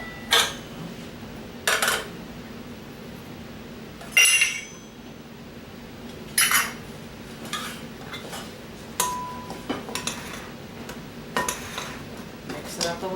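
Dry cornbread ingredients for a Southern cornbread get stirred in a bowl, with intermittent clinks and scrapes of a utensil against the dish separated by quieter stretches.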